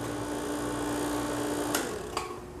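A vacuum pump hooked to the refrigeration system of a Cavalier Coke machine runs with a steady, even mechanical hum, interrupted by two brief sharp clicks near the end.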